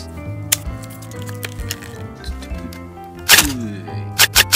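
Packaging for a Buffalo hard case for the iPod nano 7th generation, with a clear plastic back, is opened with scattered sharp plastic clicks and cracks, and a louder crinkling burst near the end.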